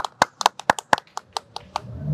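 A handful of people clap for Víctor Urbano at a live Barranco event, about ten crisp close claps in an uneven rhythm that trail off after two seconds, with no talking.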